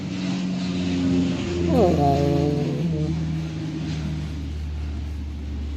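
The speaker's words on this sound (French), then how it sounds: "c'est les canadaires qui s'entraînent" A Canadair water bomber flies overhead on a training run. Its droning propeller engines hold steady, with a sweeping pitch change as it passes. A voice exclaims briefly over the noise.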